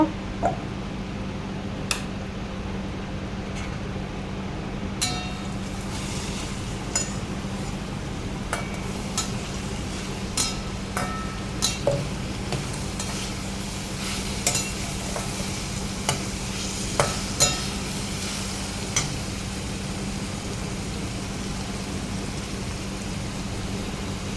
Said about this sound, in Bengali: ঢাকাটা খুলে আমি এটা লাড়িয়ে নিব